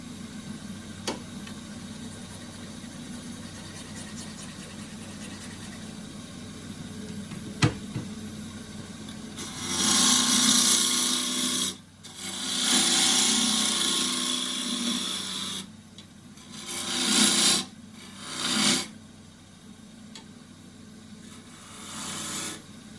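Edge of a woodturning tool being honed: quiet room tone, then several loud hissing, grinding bursts of a few seconds each with short gaps between them, with no talk over it.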